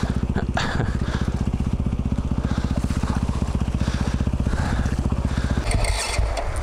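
A motorbike engine idles steadily after a choke start on the Strata Florida track in Wales, a close, even, rapid putter that runs throughout and roughens near the end.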